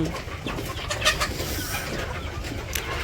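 Village chickens cluck in the morning after feeding, short broken calls over a rumbling outdoor background with a few sharper bird notes, moderately near.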